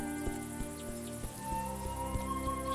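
Crickets chirp in a steady, fast high pulse across a grassy field in the video game A Juggler's Tale, layered beneath soft tonal game music and ambient sound, with no voices.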